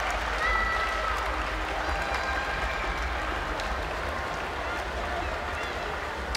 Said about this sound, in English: The crowd getting into this now as we approach the halfway mark.